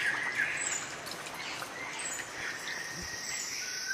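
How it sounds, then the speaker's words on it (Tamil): A Sri Lanka spurfowl calls in the Sinharaja rainforest, its notes set within a dense, steady chorus of insects and other birds, with no voices. "இதுதான் ஸ்பர் ஃபவுல்."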